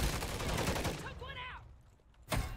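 Rapid bursts of AMR9 submachine gun fire in the Modern Warfare 3 video game, loud and dense for about a second, then a pause and a sharp final burst.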